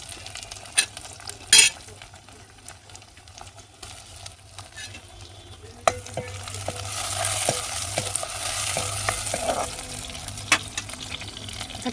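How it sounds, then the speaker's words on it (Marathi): Tomatoes frying in oil with browned onions in a pan over a village wood-fired stove for chicken curry: a soft sizzle that swells into a steady hiss halfway through, with occasional sharp clinks of stirring and no talk. "तर टोमॅटो पण तेलामध्ये चांगला विरघळपर्यंत कणी भाजायचा"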